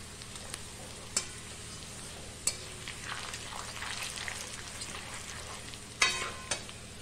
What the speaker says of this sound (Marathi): फुटाण्याची डाळ ही घालून घ्यायची आहे आणि ती सुद्धा या तेलामध्ये परतून घ्यायची